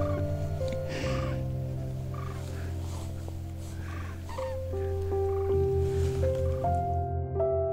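Cranes calling as they fly overhead in the Indian desert, loud trumpeting and bugling calls, some long and sustained and others broken, coming in overlapping bursts from several birds.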